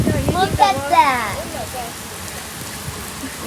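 Rain falling in a steady, even hiss throughout, with voices talking over it near the start.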